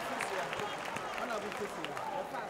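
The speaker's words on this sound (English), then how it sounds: "A round of applause for Reverend Azigiza Jr." Audience applause at a gospel worship event, steady clapping filling the space with voices and crowd murmur mixed in throughout.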